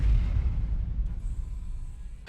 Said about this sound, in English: There is a C4 about 30 or 40 tiles above me right now, so it's completely off my screen